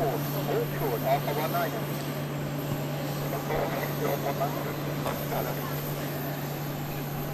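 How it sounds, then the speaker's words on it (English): Boeing 787-10 Dreamliner at Amsterdam Schiphol Airport, a steady, distant engine drone running underneath someone talking throughout. "is that a Dreamliner in the background? Yes, it is."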